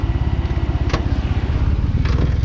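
A homemade drag racing buggy's engine throbs with a fast, even pulse at close range, with two short brighter bursts as it revs.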